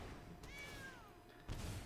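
A single cartoonish cat meow with a rising then falling pitch plays for the Cauldron Familiar card in the MTG Arena video game, followed by a soft game thump.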